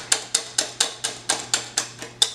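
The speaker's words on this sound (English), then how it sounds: "I use my whisk to blend it." Whisk beating an egg in a bowl for fritters, a quick regular series of about ten sharp clicking strokes against the bowl, close and clear.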